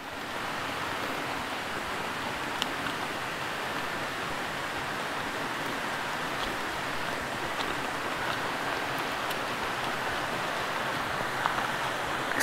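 Water flows in a steady, even rush, a constant gentle burble of a small stream close by at the source of the Nan River, with no voices.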